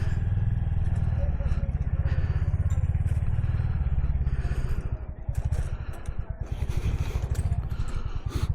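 A Royal Enfield Hunter 350 motorcycle is being ridden, its low, steady single-cylinder thump close and continuous, with a pulsing rhythm, wind noise and faint rattles on top.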